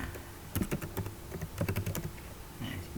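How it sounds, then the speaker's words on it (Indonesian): A computer keyboard is typed on in quick bursts, with clusters of close, crisp key clicks separated by short pauses. "kita misalkan kita ketik di sini. Nah, ini kita ketik percobaan"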